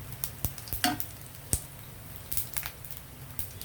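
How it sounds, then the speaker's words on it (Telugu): Garlic tempering in oil for a coriander-stem chutney, a faint, quiet sizzle under a low background hum, broken by a few sharp clicks and taps from stirring. "మంచి స్మెల్ వస్తుంది వెల్లుల్లి వేగుతుంటే."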